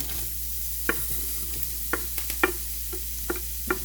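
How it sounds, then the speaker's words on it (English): A medium onion frying in hot olive oil in a pan, a low steady sizzle broken by several crisp clicks and taps of a spoon stirring, nearby with no voices. "Here I have a little bit of olive oil in a pan, heating up. It's already heated up actually. One medium-sized onion going in."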